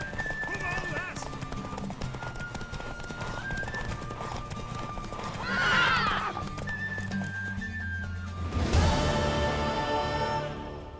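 Hooves clip-clop steadily under a voice, with a loud mare whinny rising near the end, in The Witcher 3 video game.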